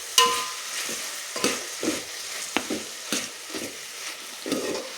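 Horse gram curry with tomatoes being stirred and mixed in a pan: rhythmic scraping strokes repeat about every half second over a steady frying sizzle, close and clear, with no talking.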